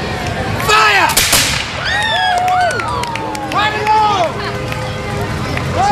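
A reenactor militia group fires a musket volley during a street parade, the shots bursting over a noisy crowd as people shout and talk throughout.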